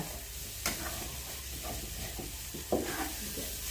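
Small fish fry in an oil-free pan, a soft continuous sizzle broken by a couple of sharp scraping stirs, close and moderately quiet with no talking.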